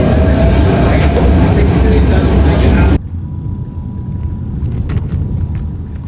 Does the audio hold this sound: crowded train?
yes